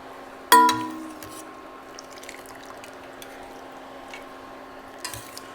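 A sharp clink followed by soft, steady dripping and trickling as wet pasta is lifted out of its cooking water, fairly close, with a faint splash near the end.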